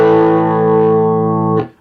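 A sustained guitar chord rings loud and steady through a 1976 Fender Vibrolux Reverb amp with the bass turned up, holding for about a second and a half before being cut off and fading.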